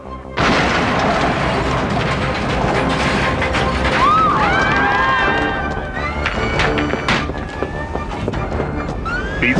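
Energy weapon blasts and booming explosions fill a RoboCop Alpha Commando cartoon battle, loud and continuous, with sweeping siren-like whines and a dense roar of chaotic action.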